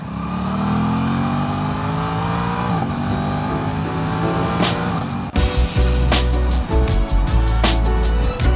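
An Aprilia motorcycle accelerates onto the freeway, its engine climbing loud and close through the gears before wind buffeting and rumble take over.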